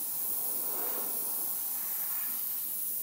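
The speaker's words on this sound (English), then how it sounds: "I'm really painting on top of the paint and letting the overspray" Steady hiss of an airbrush spraying paint along model panel lines for overspray weathering, close, even and unbroken for a few seconds, with no talk.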